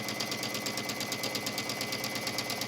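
A sewing machine stitching a silk charmeuse seam with a small size 10 needle, running steadily in a fast, even mechanical rhythm close by.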